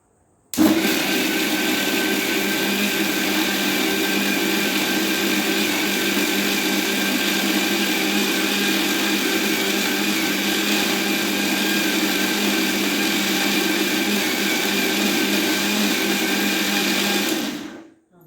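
A mixer grinder (mixie) grinds dosa batter in one loud, continuous motor whir that starts abruptly, holds steady for about seventeen seconds, then cuts off.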